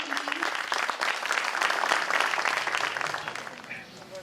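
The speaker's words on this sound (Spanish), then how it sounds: "aplauso para Carlitos Pascualín, para Mario Cattuccini." A crowd claps steadily for several seconds, a dense, even patter of applause that tapers slightly at the end.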